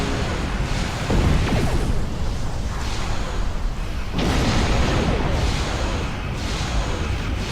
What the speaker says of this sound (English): So, plasma torpedo.